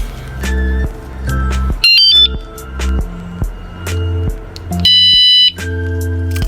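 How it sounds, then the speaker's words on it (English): An electric scooter alarm system beeps loudly and repeatedly, a steady pulsing tone broken by two bursts of rapid high-pitched chirps. "Some of y'all might be wondering what this is. This is a little alarm system."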